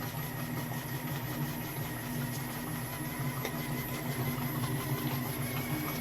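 A KYS Pro Baker 7+ spiral mixer runs at full speed, about 450 RPM, kneading pizza dough with a constant, even motor drone and faint rhythmic whirring at moderate volume.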